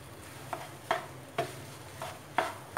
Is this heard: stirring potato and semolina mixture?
yes